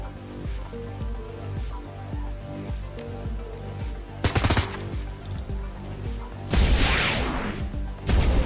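Gunfire in the Shadowrun Hong Kong video game: repeated sharp shots and bursts ring over a steady game music bed, with loud broadband blasts and crashes standing out near the middle and toward the end.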